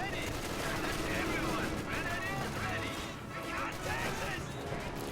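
Rapid gunfire and machine-gun bursts crackle through a Company of Heroes 2 battle as a US squad engages German Grenadiers, dense and continuous beneath an excited commentator's voice.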